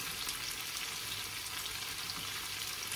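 Tofu pieces frying in a pan for sisig give a steady, fairly faint sizzle with no talk.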